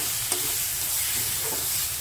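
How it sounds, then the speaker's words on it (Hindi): Masala spices frying in a pan for a chicken dish, a steady close sizzle with faint scraping stir strokes throughout. "मसाले को हम अच्छी तरह से फ्राई कर लेंगे। मसाला हमारा फ्राई हो रहा है।"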